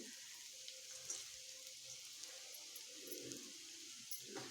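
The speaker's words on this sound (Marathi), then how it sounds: "याच्यामध्ये आपण आता चिरलेलं असं खोबरं घालायचं आहे तर हे सुक्कं खोबरं आहे" Chopped dried coconut roasts with onion in a pan, giving a soft, steady frying sizzle with light stirring scrapes, quiet and close, no talk.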